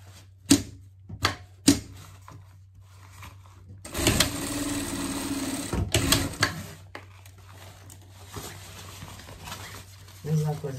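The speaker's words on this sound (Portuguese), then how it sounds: "Fechou os lados, vai pegar aqui, passar uma costura." A sewing machine stitches a seam on a lion-themed pet bag, with a few sharp clicks early on, then a steady whirring run of about two seconds and another brief burst, set against a low background hum.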